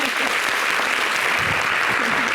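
A television studio audience claps loudly and continuously through a brief stretch, a dense wash of applause with no pauses.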